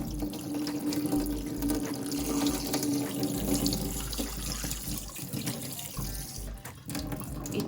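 Tiny dulong fish rinsed under a running kitchen tap, a steady close splashing stream filling the sink throughout with small shifting gurgles as the fish are washed, no voices.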